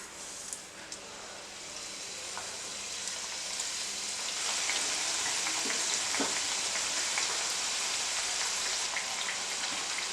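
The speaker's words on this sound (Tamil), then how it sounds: "நம்ம ஆயிலில் ஃப்ரை பண்ணிக்கலாம்." Mutton samosas deep-fry in oil with a dense, even sizzle that grows louder and fuller partway through, flecked with small pops and crackles.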